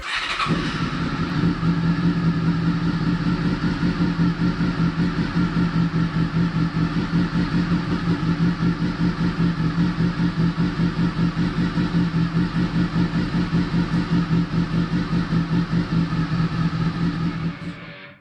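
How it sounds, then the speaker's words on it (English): A Honda VFR 800 motorcycle engine idles steadily while warming up, a close, continuous low rumble with a fast even pulse that holds for about seventeen seconds before cutting off. "First, I let the engine warm up."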